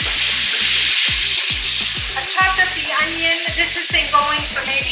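Pork tenderloin sears in a hot pan with a constant close hiss and sizzle, while a knife chops onions on a board in a steady string of sharp thuds over the top.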